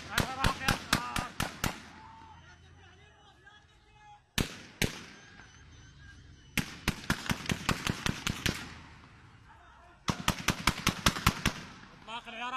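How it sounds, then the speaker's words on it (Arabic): Rapid bursts of gunfire and tear gas canisters fired at protesters during a street protest in Kut, Wasit province, Iraq, come as sharp cracks in four clustered volleys, loud and close, with shouting voices in between. "إطلاق العيارات النارية والقنابل المسيلة للدموع بشكل مباشر"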